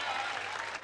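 Crowd applauding at a tenpin bowling tournament in Melbourne, a steady, dense burst of clapping heard alone for under a second.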